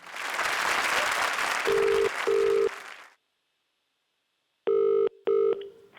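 A telephone rings for a live call on a comedy show, sounding two pairs of steady electronic ring tones, first over loud audience applause and then alone in silence.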